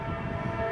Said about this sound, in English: Yep, that's a train.